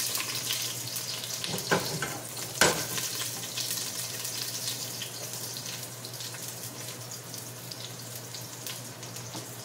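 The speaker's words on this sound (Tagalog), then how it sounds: "we're gonna make it brown, golden brown, the garlic" Chopped garlic fries in a pan for pork adobo, giving a soft, continuous sizzle with a couple of sharp clatters from a utensil early on and no talking.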